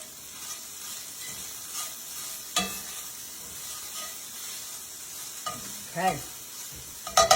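Onions and vegetables fry steadily in a pan for ribeye steak and cheese sliders, a soft continuous sizzle with a few sharp stirring scrapes and clanks; one brief spoken word.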